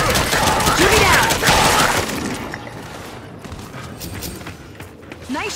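Rapid gunfire from the Gears of War 5 video game in an online brawler match, with bursts of shots and impacts loud in the first two seconds, then fading to quieter background game noise.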